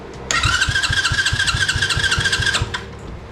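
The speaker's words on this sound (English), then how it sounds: "Well, it turns over, so that's great." Small engine of a mini quad cranking over with a rapid, rhythmic chug and whir for about two seconds, close and loud, without catching into a run.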